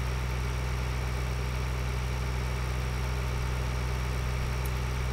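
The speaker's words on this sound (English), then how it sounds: "It's also a good tractor. It goes pretty fast." A tractor engine in Farming Simulator 2013 runs at a steady idle-like drone, constant and unbroken, with a low rumbling hum filling the background and no voices.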